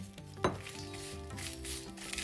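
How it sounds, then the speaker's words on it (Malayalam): Dried prawns frying in a hot pan give a soft sizzle, with a sharp metallic clink of a utensil near the start and light stirring scrapes afterward. "നമ്മൾ വറക്കാൻ ഉപയോഗിക്കുന്ന പാത്രം നല്ല ചൂടായതിന്റെ ശേഷം വേണം മീൻ ചേർക്കാൻ"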